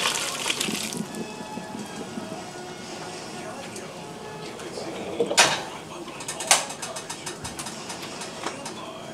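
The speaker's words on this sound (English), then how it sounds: "Got the noodles done. Gonna pour those out." Cooked spaghetti noodles being poured out in a home kitchen while making a white creamy bake, a brief splashy gush of water and noodles rising over steady background noise, with two sharper bursts near the end.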